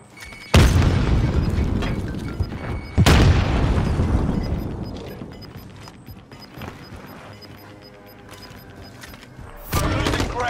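Grenade explosions in the Call of Duty Warzone video game on Rebirth Island: two loud, close booms a few seconds apart, each trailing into long rumbling decay, followed by a third blast near the end.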